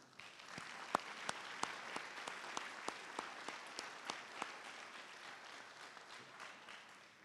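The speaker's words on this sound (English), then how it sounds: "Please give them a round of applause" Applause from an audience at a military academy homecoming Hall of Fame and alumni banquet, a steady wash of many hands clapping with distinct sharp claps standing out, fairly faint and slowly fading.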